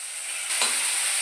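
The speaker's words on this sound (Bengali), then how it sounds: "পাঁচফোড়ন আর কাঁচা লঙ্কা ফোড়ন দিলাম।" Five-spice seeds and green chillies hit hot oil for a fish curry, a sudden loud hiss that swells from a quieter sizzle and holds steady, heard close and alone.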